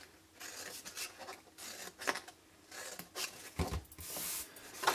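Scissors snip through paper for a butterfly-decorated wax melts bag, a series of short, crisp cuts and rustles at irregular intervals, quiet and close, with no talking.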